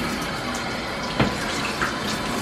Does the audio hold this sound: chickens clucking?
no